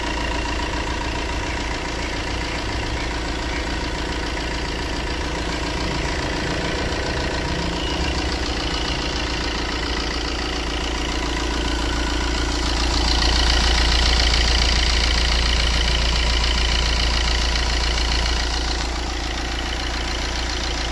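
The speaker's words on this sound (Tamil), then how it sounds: "வண்டி ஸ்டார்ட் பண்ணுறேன் பாருங்கள்." 2017 Tata Zest car engine with a water pump leak and 240,000 km on it, idling steadily with a continuous close rumble that swells slightly midway, no talk over it.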